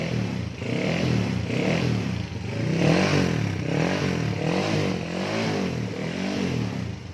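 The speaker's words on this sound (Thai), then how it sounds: "เดี๋ยวดูลองเร่งดูกัน" A Honda Wave 125 motorcycle engine with a tuned carburetor revs repeatedly, rising and falling in a steady rhythm of throttle blips, loud and close with no talk over it.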